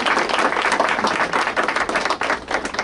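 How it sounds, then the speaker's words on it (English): An audience at a blessing ceremony for an opioid treatment program claps for a staff member as she is introduced, a dense, lively burst of hand claps lasting a few seconds. "You give her a clap."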